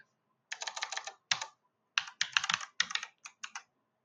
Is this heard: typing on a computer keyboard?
yes